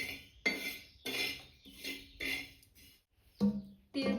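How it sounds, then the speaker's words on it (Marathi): Sesame seeds dry roasting on a hot griddle, stirred in short, separate scraping and rattling bursts about every half second, close and fairly quiet, with a louder clatter near the end. "सगळ्यात पहिला आपण तीळ भाजून घेणार आहे"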